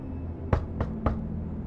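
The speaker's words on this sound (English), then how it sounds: "Knock at the door." Three firm knocks on a motel room door in The Wolf Among Us, evenly spaced and close, over a low steady hum of background ambience.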